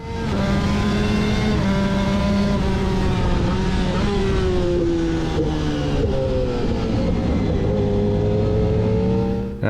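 A racing motorcycle engine on track screams close and loud, pitch climbing and dropping through repeated gear changes across ten seconds, with no talk over it.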